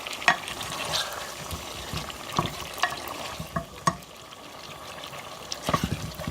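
Chicken curry ingredients frying in a pan, a soft steady sizzle with occasional stirring scrapes and clinks, quiet and close with no talking.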